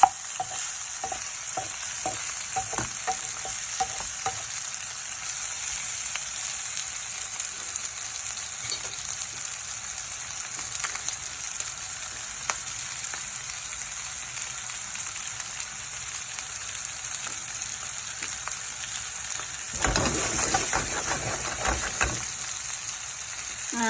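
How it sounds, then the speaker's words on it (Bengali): Hilsa fish frying with green chili and onion in a pan gives a steady, close hiss of sizzling oil that continues throughout, swelling louder near the end with occasional stirring scrapes. "এই ইলিশ মাছ ভাজি, সাথে কাঁচা মরিচ এবং পেঁয়াজ দিয়ে ভাজি করা"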